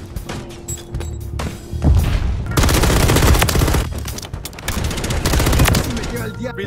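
Loud, close gunfire from a gun in Call of Duty MW3, with rapid automatic bursts and heavy thumps in quick succession, and some sound in the game beneath.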